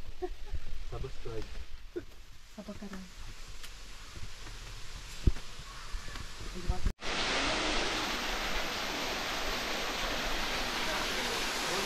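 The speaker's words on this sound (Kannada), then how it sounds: "ನಾನು ಮಾತಾಡಿದರೆ ಅಷ್ಟು ಸಹ ಸೌಂಡ್ ಉಂಟು ಇಲ್ಲಿ ನೀರಿದು" Loud, steady roar of rushing falling water at Bheemeshwara waterfall fills the space, preceded by muffled talk and footsteps before the rushing noise takes over.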